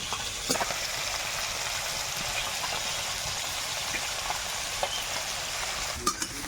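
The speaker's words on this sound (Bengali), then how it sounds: "প্রথমে কই মাছগুলো ভেজে নিয়েছি এখনো দু একটা ভাজতে বাকি আছে" Koi fish sizzle steadily in hot oil for a home-style fish curry, a continuous close frying hiss with a few faint clinks of stirring, with no voices.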